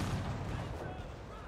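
Ship cannon fire and explosions in the naval battle game Age of Pirates 2, a continuous dense low rumble of booms and blasts that fills the whole short stretch without pause.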